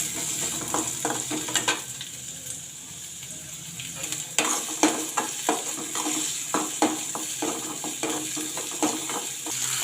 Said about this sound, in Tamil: அதை போட்டு வதக்கிக்கலாம்.